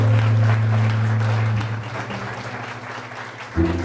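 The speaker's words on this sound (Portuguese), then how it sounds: "Vamos aplaudir esse Deus maravilhoso." A church audience applauds during a rosary prayer gathering, with dense sustained clapping that fills the space, strongest at the start and then tapering off.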